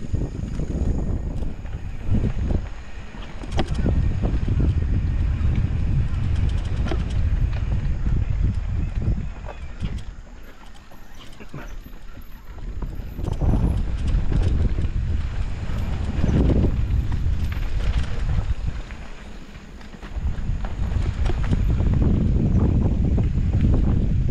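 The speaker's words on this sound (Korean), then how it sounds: "바람 엄청 꽝꽝구나" Strong wind buffets the microphone during a test ride, a loud, steady low rumble that surges in long gusts and drops briefly between them, with no voices over it.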